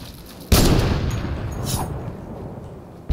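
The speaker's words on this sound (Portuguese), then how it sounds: "Parece que alguém usou canhão." A single heavy cannon blast in Fortnite booms suddenly and rumbles away over a few seconds, and another sharp hit starts right at the end.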